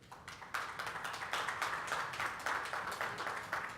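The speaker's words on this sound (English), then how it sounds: "could we give a round of applause as our distinguished guests take their seats on the dais?" Audience at a WHO South-East Asia hepatitis event claps as guests take their seats on the dais, a moderate, fairly quiet round of applause with distinct individual claps, steady throughout.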